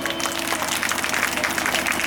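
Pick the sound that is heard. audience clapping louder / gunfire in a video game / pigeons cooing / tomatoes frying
audience clapping louder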